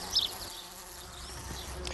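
Bees buzz in a soft, steady drone over a faint outdoor background, with one brief high chirp near the start.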